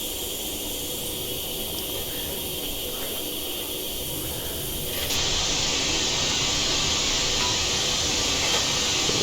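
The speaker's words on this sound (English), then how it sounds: "Even the venting steam over here on our safety valves looks pretty decent." Steam venting from the safety valves of a GWR Small Prairie 2-6-2T tank locomotive in Train Simulator Classic, a steady broad hiss that jumps suddenly louder and brighter midway and then holds.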